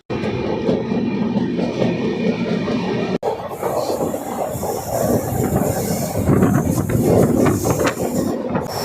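Danapur Koderma Intercity Express running toward a tunnel in Bihar: a steady, loud train rumble with wheel clatter and hiss, shifting to a denser roar partway through as the train nears the tunnel.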